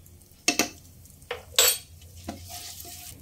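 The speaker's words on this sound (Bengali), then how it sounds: "কয়েক সেকেন্ড ফোড়নটাকে নেড়ে নিয়েছি লো ফ্লেমে" A spoon stirs a dry red chilli, shahjeera and asafoetida tempering in a pan over a low flame, giving a few sharp metallic scrapes and clinks over a faint sizzle, close by, with no talking.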